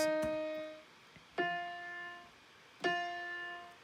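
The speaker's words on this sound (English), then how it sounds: "So the next element I added was a reverse piano." Reversed piano notes from a chord progression's top line swell in three separate strikes spaced about a second and a half apart, each with bright ringing harmonics, played alone and fairly soft.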